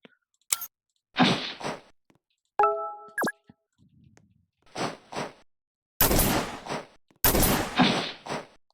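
Medium gunner fire in a combat video game rings out as short separate bursts of shots with quiet gaps between them, plus a brief tonal game sound near the start.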